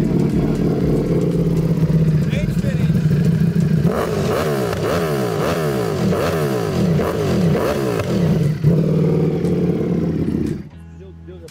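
A V4 motorcycle engine roars loudly and close, revving and accelerating with a rising, rhythmic growl for about ten seconds before cutting off abruptly, while people talk over it.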